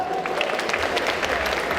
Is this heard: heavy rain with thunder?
no